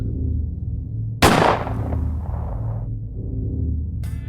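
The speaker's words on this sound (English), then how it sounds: "The sound of gunfire broke the silent night air." A single sharp gunshot cracks out and rolls away in a fading rumble over a steady low background hum.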